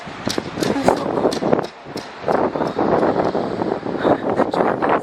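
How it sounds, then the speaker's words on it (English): Strong wind gusting in Iceland on a dark, cold morning, a steady roar of buffeting air against the microphone with rushing swells and brief lulls. "It's so windy."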